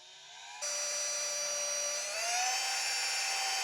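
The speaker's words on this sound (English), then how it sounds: "Starting with the smallest drill bit I have, which is a 1/16 inch." A power drill with a 1/16 inch bit bores a pilot hole in a Saab 9-3 ICM4 unit, a steady high whine that spins up sharply, holds, then rises slightly in pitch as the bit cuts, alone and close.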